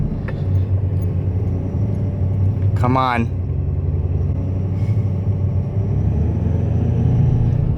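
A truck towing a trailer rumbles loudly and steadily with a deep, close engine drone, and a brief rising whine cuts through midway. One voice speaks briefly.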